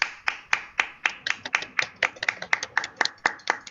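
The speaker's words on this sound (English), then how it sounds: "Please give her a very big warm applause." A small audience at a public speaking course claps for a speaker, sparse distinct hand claps in a loose uneven rhythm, close and clear against a quiet room.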